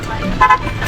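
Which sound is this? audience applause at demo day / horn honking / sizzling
horn honking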